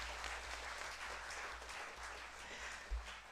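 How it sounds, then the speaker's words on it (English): Audience applause fills a college conference hall, a continuous, even patter of many hands heard from a distance, fairly soft and steady with no voices on top. "a good round of applause."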